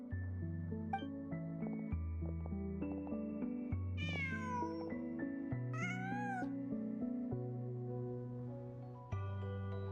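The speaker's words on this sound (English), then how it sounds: "Just a cat." Cat meowing in the Genshin Impact video game, several clear, drawn-out meows rising and falling over soft sustained background music, close and distinct, no talking.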